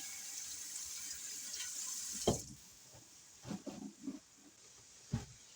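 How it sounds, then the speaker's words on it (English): Hands are washed under a running kitchen tap: a steady hiss of water fades out, then come a few short splashes, rubbing sounds and a clunk nearby, with no talking. "we're going to wash our hands"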